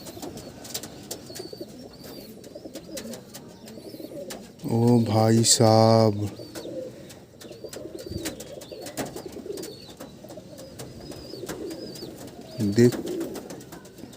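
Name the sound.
pigeons cooing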